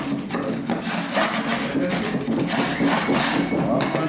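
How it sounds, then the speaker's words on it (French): Wood chisel scraping grime from a floor threshold at a doorway during a Fermacell floor installation, a close, continuous rasping scrape with light rhythmic strokes. "On vient juste gratter comme ceci."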